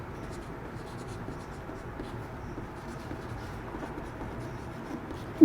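Writing during a Class 12 physics lesson on ray optics makes a faint, continuous scratching across a low room hum, with a sharp knock at the very end.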